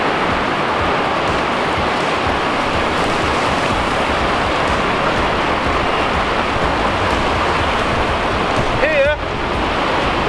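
Surf washing onto a sandy beach makes a steady, loud roar of broadband water noise with some wind buffeting, unbroken for the whole stretch apart from a short faint chirp near the end.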